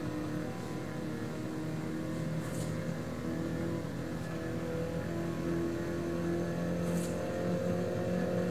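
A racing video game car engine hums steadily at a constant drone with no clear revving swells, played on a Logitech G923 wheel, no talking.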